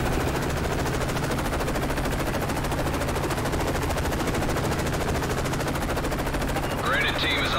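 Sustained automatic gunfire rattles loud and continuous throughout a helicopter-assault mission in a military video game, with a faint burst of higher crackle near the end.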